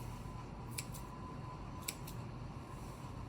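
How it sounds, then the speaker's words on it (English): Two pairs of quick, crisp scissor snips into pretzel dough, each a double click, sound close up over a low steady background hum. "I'm going to take my scissors and I'm just going to snip."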